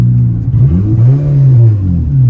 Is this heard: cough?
no